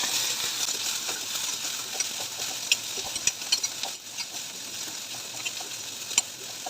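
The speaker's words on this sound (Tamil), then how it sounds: "வெங்காயம் கொஞ்சம் கோல்டன் ப்ரௌன் ஆகிற வரைக்கும் நல்லா வதக்கிக்கலாம்" Onions sautéing in a pan over a medium flame until golden brown, a continuous soft sizzle with occasional light clicks and scrapes of stirring, close and steady with no voices.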